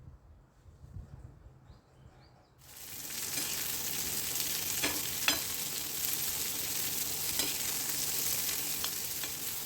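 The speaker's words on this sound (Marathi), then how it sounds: "तुकडे करून घेतलेल्या शेंगा तव्यावरती टाकायच्या आणि याला छान डाग पडेपर्यंत शेंगा भाजून घ्यायच्या" Cut cluster bean pieces roast on a hot griddle over a medium flame until they char. After a quiet opening of a couple of seconds, a loud, continuous close-up sizzle starts, with occasional sharp crackles and turning clicks and no speech.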